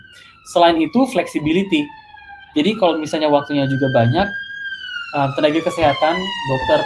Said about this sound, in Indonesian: maaf ya, ini bunyi ambulans